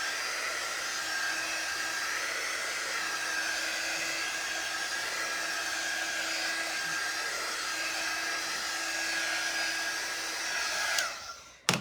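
A hair dryer blows steadily on a craft transfer, a continuous loud whirring roar that holds level for about eleven seconds before being switched off with a brief clatter.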